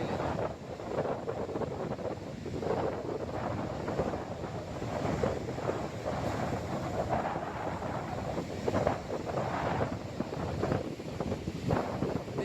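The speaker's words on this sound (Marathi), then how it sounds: "हे खवळलेला समुद्र झालेला आहे" Rough, churning sea on the Konkan coast, heard as a steady loud roar of wind buffeting the microphone with crashing surf, continuous and close with no voices.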